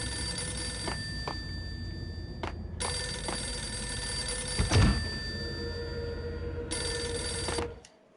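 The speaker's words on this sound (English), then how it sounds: "Answer the phone." A telephone bell rings in the Max Payne video game, several long ringing bursts with short gaps between them, loud and close, with a dull thump partway through and silence at the end.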